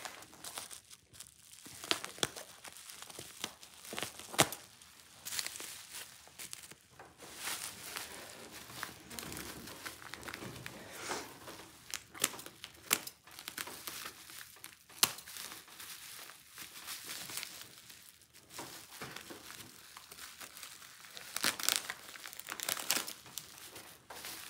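Cardboard and plastic packaging crinkle and tear in irregular bursts close by as a box is cut open with scissors, with scattered sharp rips and rustles over a long stretch.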